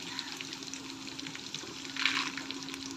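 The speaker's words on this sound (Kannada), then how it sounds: "ಇವೆಲ್ಲ ಸ್ವಲ್ಪ ಎಣ್ಣೆಲಿ ಫ್ರೈ ಆಗಲಿ." Peanuts frying in oil in a pan for lemon rice: a steady, fairly quiet crackling sizzle with light spatter, continuous throughout with one slightly louder burst partway through.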